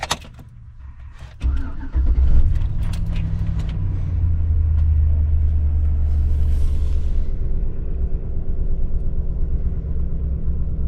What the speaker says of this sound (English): Here's the first cold start after we replaced that O-ring and pickup tube.